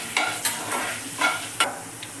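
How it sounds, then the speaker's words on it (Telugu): Coriander seeds fry in a pan with dried red chillies, a steady sizzle broken by a few quick scraping stirs, close up and with no one talking. "ఇప్పుడు ధనియాలు వేసుకోవాలి ఇవి కూడా బాగా ఫ్రై అయిన దాకా వేయించుకోవాలి"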